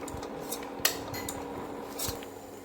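Chili powder and garam masala sautéed in a pan for a brinji rice dish, heard as a few close, sharp clinks and scrapes of a utensil against the pan over a faint hum, with no talking.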